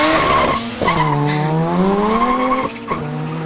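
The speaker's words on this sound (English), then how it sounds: "Mehmet and Jason wanted the first drag." Cars launching off the line in a drag race at a horsepower shootout, a loud, close engine wail with squealing tyres rising in pitch, then breaking off and starting again.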